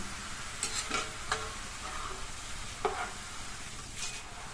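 Steady crackling sizzle of Tamil snacks frying in hot oil, with a few brief scraping stirs and clicks scattered through, no voices.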